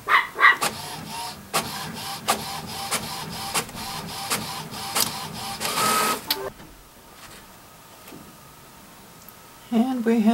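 An inkjet printer whirs and clicks rhythmically as the carriage shuttles back and forth printing a photo onto a fabric sheet, then winds down near the end, with brief faint voices.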